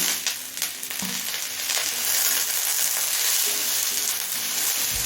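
Green peas and chopped capsicum fry in a hot pan for mixed chow mein, a dense, loud, continuous sizzle up close with occasional stirring scrapes and no talking.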